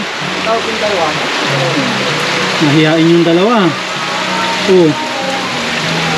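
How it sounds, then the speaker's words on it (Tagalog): Heavy rain pours down in a steady, dense hiss alongside rushing water, while voices talk and sing over it in the foreground. "Maulan tapos lakas ng agos dyan."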